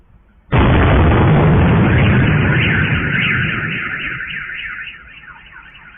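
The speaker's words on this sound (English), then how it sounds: "we were able to hear the sound of the drones and the explosions in the city" A loud blast erupts in a city after a brief quiet moment, followed by a sustained wail of car alarms sounding together over a lingering rumble.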